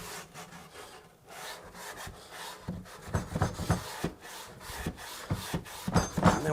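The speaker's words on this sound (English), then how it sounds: "So we just scrape it out with a chisel a little bit," A chisel scrapes old stain out of dry antique wooden furniture, producing close, rasping strokes that grow louder and more rhythmic as the work goes on.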